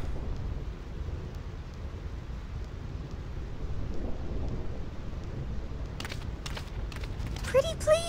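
A thunderstorm rolls across the Thunder Plains in Final Fantasy X, with steady heavy rain and low rumbling throughout, a few sharp crackles near the end.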